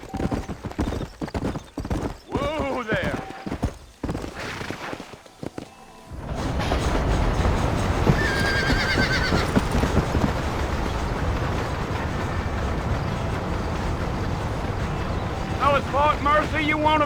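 Horse riding in the Red Dead Redemption video game: hooves clop rhythmically under talk at first, then give way to a loud, continuous rush of galloping and wind, with a brief neigh near the end.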